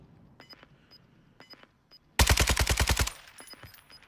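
A rapid burst of about ten loud, evenly spaced shots from a Fennec gun in a video game, preceded and followed by faint clicks and interface beeps.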